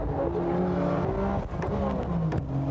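Several race-prepared sports cars of over 500 horsepower accelerate down the back straight of Tsukuba Circuit in 1995, engines revving hard in overlapping rising tones with quick gear changes, loud and close.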